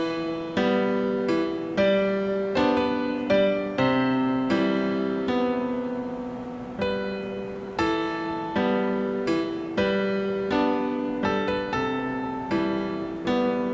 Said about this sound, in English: just like a higher keyboard riff in the other ear